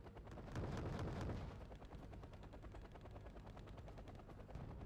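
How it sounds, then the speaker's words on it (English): Rapid bursts of 30mm autocannon fire from a nose-mounted gun on a transport helicopter in the strategy game Wargame Red Dragon, heard as a dense, rattling stream of shots, louder at first and then continuing steadily at lower level. "They're big 30mm cannons."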